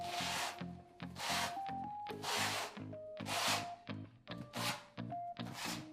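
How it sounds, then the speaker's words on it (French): A notched glue comb spreads tile adhesive across a wall in a series of close, wet scraping strokes. The strokes come in an uneven rhythm, with short pauses between them. "Tirez la colle avec un peigne à colle, maintenez bien la spatule contre le mur"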